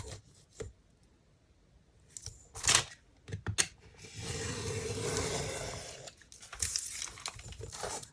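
Paper for a 12x12 junk journal page being trimmed on a cutting mat: scraping and crinkling cuts, sharp taps and a longer continuous rasping stretch of blade through paper, quiet and close with no talk.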